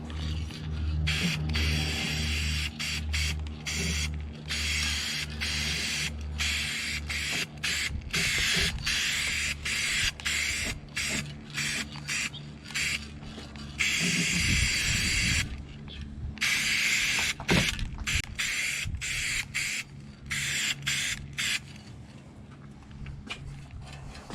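A spray gun lays a coat of paint on a boat hull, a hissing spray that comes in repeated bursts over a low mechanical hum, with short pauses between passes.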